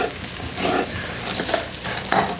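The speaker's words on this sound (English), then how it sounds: "I'm just stirring it long enough to heat it through, to aromatize it." Thin slices of fresh ginger stirred in a hot pan, giving a close, steady sizzle and frying hiss with soft repeated scraping strokes of the utensil, no voices.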